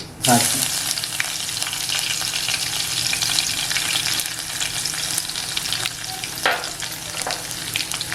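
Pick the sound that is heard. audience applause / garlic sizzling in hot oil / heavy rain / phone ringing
garlic sizzling in hot oil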